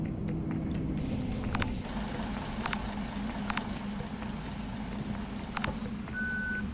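A bus in the game Bus Simulator Ultimate, on an Indonesian map, reverses with an engine hum and repeated sharp beeps at uneven intervals, clear and moderately loud, with no talking.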